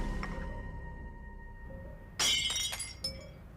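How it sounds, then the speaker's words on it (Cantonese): A plate smashes in a quiet kitchen: after a low hum, one sudden sharp crash rings out, followed by a short rattle of pieces settling and a last small clink. "隻貓打爛碟啫嘛"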